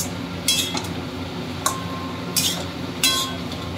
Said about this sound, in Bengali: দিয়ে নাড়াচাড়া করে জল দিয়ে দেবো